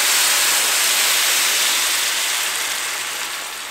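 Chicken broth pours into a hot soup pot with a loud, continuous rushing hiss that gradually softens toward the end.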